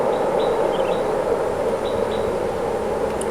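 A train crosses the long, high Cikubang railway bridge in Indonesia, a steady broadband rumble lasting throughout with faint high squeals and chirps on top, no voices.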